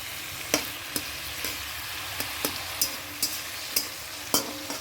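Food being sautéed in a pan in a home kitchen, a soft steady sizzle broken by repeated clicks and taps of a spatula stirring against the pan.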